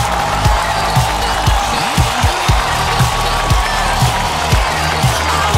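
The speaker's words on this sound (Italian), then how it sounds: "voglio un grandissimo applauso per i veri protagonisti di questo programma" Studio audience applauding the talents of a youth talent show, a dense steady wash of clapping and crowd noise with rhythmic thumping beats underneath, sustained and fairly loud without speech.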